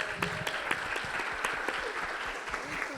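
Steady audience applause for a guest on a panel at a book fair, continuous clapping from a crowd with sharp individual claps standing out throughout.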